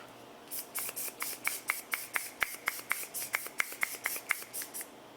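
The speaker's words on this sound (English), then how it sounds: "I'm about to go in with this One Size Until Dawn mattifying waterproof setting spray" Quick bursts of mattifying makeup setting spray, around twenty short hissing puffs in a steady rhythm, close and fairly quiet with no talking.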